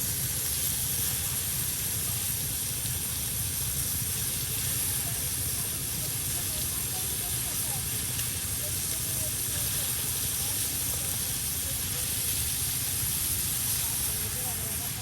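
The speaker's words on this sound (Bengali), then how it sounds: "মাংসর টুকরাগুলো এখন এই যে তাওয়ায় সুন্দর করে ভেজে নেবে" Chicken meat pieces fry on a tawa pan in a village kitchen, giving a loud, steady sizzling hiss that fills the whole stretch without a break.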